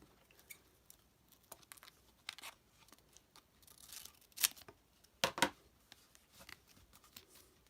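Scissors cut a piece of material for brick-pattern canvas art, with scattered crisp snips and rustles of the material handled close by, one louder crunchy cut standing out.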